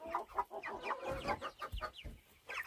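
Chickens cluck close by in a backyard flock, a run of short, uneven clucks and squawks coming in quick bursts with no talk over them.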